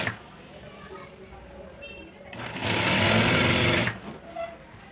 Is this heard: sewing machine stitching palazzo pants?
yes